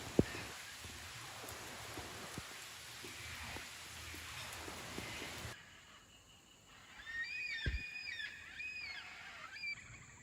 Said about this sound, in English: If you get caught out in them, the rain is so beautiful and heavy